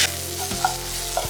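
Sliced onions sautéing in a pan for Kerala fish pollichathu, a steady close sizzle with a few stirring scrapes, no voices.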